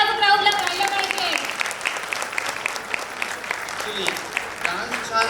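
An audience claps after a dance performance at an annual day event, with steady applause running under and around a speaking voice.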